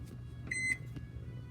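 A microwave oven's timer buttons give two short electronic beeps in quick succession, fairly faint, over a low background hum.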